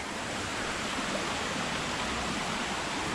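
Balagbag Falls in Real, Quezon roars as a steady, dense rush of falling water, loud and constant throughout with no pauses and no voices.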